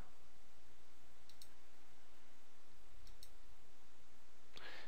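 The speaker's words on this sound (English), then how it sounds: "I can then set the rotation by clicking my mouse" A computer mouse button clicks a few times at spaced intervals, small sharp ticks over a steady quiet background hiss.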